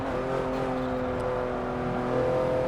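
A Porsche 911 Turbo S engine at full throttle in fourth gear in the racing game Forza Motorsport 7: a steady, close, droning engine note that holds strong and even, with no talk over it.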